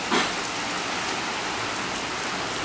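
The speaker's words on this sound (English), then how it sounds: "You see the rain?" Steady rain pours down, a dense continuous hiss of drops striking surfaces, loud and close with no voices.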